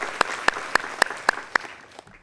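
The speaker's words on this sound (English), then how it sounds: "round of applause for them" Sparse applause for a girls' soccer team at a high school graduation, about seven distinct sharp claps in an even rhythm, close and fairly quiet, trailing off at the end.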